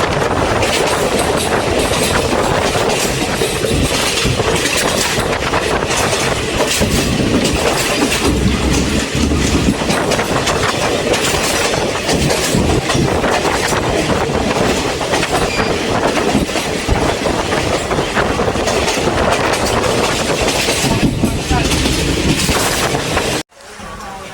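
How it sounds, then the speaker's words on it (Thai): Ordinary passenger train 201, Bangkok to Phitsanulok, rolls steadily along the rails near Ayutthaya station, a loud continuous rumble with rhythmic clickety-clack from the wheels, cutting off abruptly near the end. "รถไฟธรรมดาขบวน 201 กรุงเทพพิษณุโลก"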